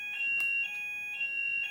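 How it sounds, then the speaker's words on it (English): A building's alarm sounds during a test, giving a steady electronic tone with higher chirping pulses repeating several times over a low background hum, moderately loud and unbroken, with no talking. "Sorry, Libra, they're testing the alarms today."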